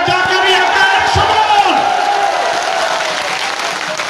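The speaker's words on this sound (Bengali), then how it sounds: "যার কারণে হয়েছে তার জন্য আরেকটা হাতে তালি দিতে হবে" Sustained crowd applause at a political party conference in a hall, dense and loud throughout with some shouts mixed in, no speech over it.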